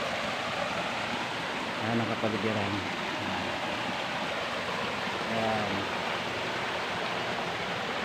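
River water flowing steadily at Layon Falls in Bacawan, a continuous broadband rush of a stream or small falls, with brief speech over it twice.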